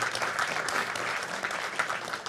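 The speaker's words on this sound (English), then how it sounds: "You've got an applause." Audience applause at an interfaith talk, moderately loud and steady for the whole stretch, with no voices over it.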